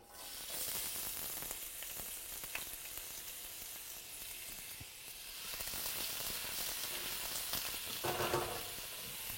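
Onion sizzling in hot oil with garlic and hot pepper, a steady bright frying hiss running throughout, with a louder burst of crackling near the end.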